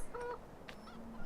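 Geese honk in a Farming Simulator game on the Green River map, two or three quick, faint honks over quiet background noise.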